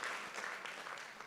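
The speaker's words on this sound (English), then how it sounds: "Your claps for India." Audience at an Earth Care Awards ceremony clapping in appreciation of India, a soft, distant wash of steady applause lasting about a second with no one speaking.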